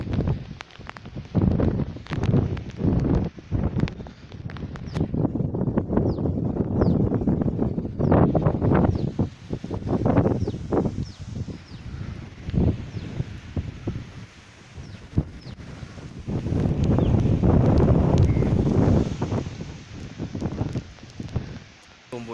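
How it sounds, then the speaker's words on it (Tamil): Strong gusts of wind with rain during Cyclone Gaja batter the microphone in loud, surging bursts, while someone talks throughout. "இன்னும் மழை விட்ட மாதிரில காற்றோட அழுத்தது காற்று எவ்வளோ வேகமாக வீசுதுன்னு பார்த்தா உங்களுக்கே தெரியும்"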